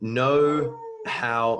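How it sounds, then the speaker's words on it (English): A dog howls in two long, rising and falling bursts with a short pause between them, loud and close, while someone speaks at the same time. "that's my dog actually, he's probably telling me to wind up"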